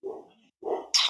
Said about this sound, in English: I don't know if you can hear my dog barking in the background.